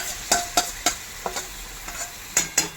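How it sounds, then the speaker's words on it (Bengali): Marinated goat meat goes into a pan of fried onions, giving a soft sizzle under a run of sharp metallic scrapes and clinks from the spoon, about ten quick strikes at irregular intervals, with no talking. "এবার যে ম্যারিনেট করে রেখেছি খাসির মাংসটা এইটা এবারে দিয়ে দিলাম"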